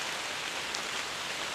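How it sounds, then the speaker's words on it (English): Rain falls steadily through the woods on a late-August afternoon, an even, dense hiss of drops on leaves, moderately loud and unbroken, with no voices. "It's raining."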